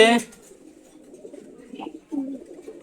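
A silver racing pigeon from a falcon line coos softly and continuously, a low burbling murmur under a brief sharp sound at the start and a faint call near the middle.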